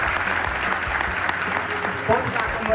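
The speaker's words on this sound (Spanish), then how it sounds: "un aplauso muy fuerte a los chicos" Brief burst of audience clapping at the closing of a tabletop wargaming tournament, close and fairly loud with some crowd murmur mixed in.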